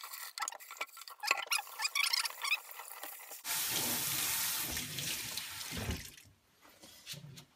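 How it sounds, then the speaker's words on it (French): Wheat grains are emptied into a colander and rinsed under running water, with splashing and a close rattle of grains at first, then a steady gush of water that tapers off near the end. "vous videz tout dans la passoire"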